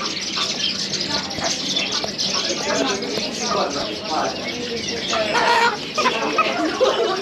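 Chickens cluck and crow in a busy Doha bazaar, Souq Waqif, with steady clucking and fowl calls over continuous crowd noise and nearby talking voices.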